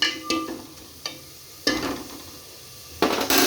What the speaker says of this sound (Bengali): ভেজে নেবো ব্রাউন কালার করে নেব